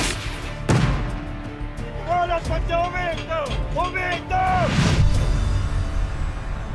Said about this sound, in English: It's an annual battle fought with huge handmade fireworks shells.